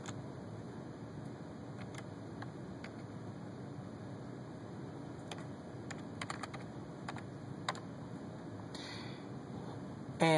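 Someone types a password on a computer keyboard in a school tech media center. The key clicks are faint, sparse and uneven, set under a steady background hiss.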